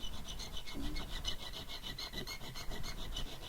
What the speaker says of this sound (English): I'm busy filing